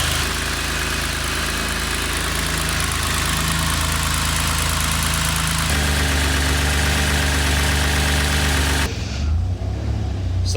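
A 600+ horsepower Subaru Levorg engine runs steadily at close range, a loud continuous drone with a faint underlying noise, and the tone shifts lower partway through before a brief change near the end.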